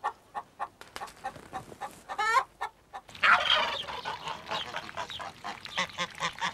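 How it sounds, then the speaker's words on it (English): Hens and a cockerel clucking inside a strong cage, with repeated short clucks and calls, a louder burst of overlapping fowl chatter partway through, close and fairly quiet. "the hens and the cockerel were safe and sound"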